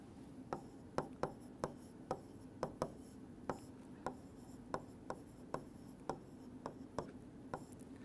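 A marker or chalk taps and scrapes on a classroom board in short strokes at an even pace, soft and close over a low background hum.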